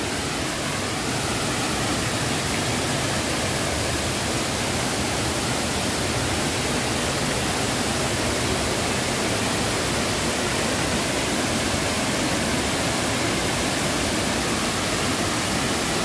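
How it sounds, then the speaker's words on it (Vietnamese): Lưu Ly Falls, a natural waterfall some 30 to 40 metres high in Đắk Nông, Vietnam, roars in a dense, steady, loud rush of falling water that stays constant throughout with no voices heard. "Một cái thác thiên nhiên ở đây"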